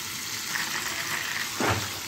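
Liver and gizzards sautéing in a pan for Egyptian rice, heard as a close, steady hiss of frying with a brief stirring scrape near the end and no voices.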